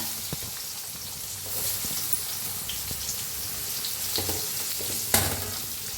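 Onion, cumin, asafoetida and curry leaves fry in hot oil for a ridge gourd curry, giving a steady close sizzle with occasional crackles and a sharper pop near the end. No one speaks.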